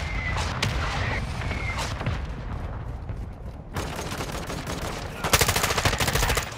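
Rapid automatic gunfire rattles through a Modern Warfare 2 beta team deathmatch. Dense bursts of shots sit over a constant loud game mix and grow into a sharper, faster volley near the end.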